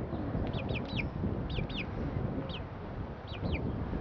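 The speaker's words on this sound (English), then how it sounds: "It's the baby chicken." A baby chicken peeps in several quick, high chirping bursts, grouped in twos and threes, over a steady background noise; no one speaks.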